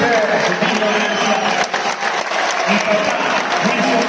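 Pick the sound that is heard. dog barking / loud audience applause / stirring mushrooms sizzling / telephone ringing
loud audience applause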